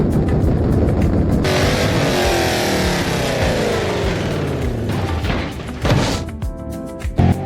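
Dodge Challenger in BeamNG.drive roaring along with engine revs rising and falling, then loud crashing impacts near the end.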